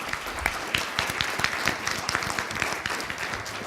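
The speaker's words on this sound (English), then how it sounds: "Let's give our panel another round of applause." A room full of people applauding a conference panel steadily, dense clapping that holds at an even level throughout.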